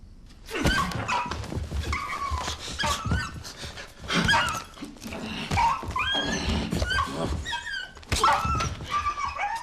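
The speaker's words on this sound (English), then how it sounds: "we hear a dog crying instead of a woman" A dog cries and whimpers in an RSPCA public service announcement where a man hits his partner, with several yelping, whining bursts over dull thuds and background sound, loud and close throughout.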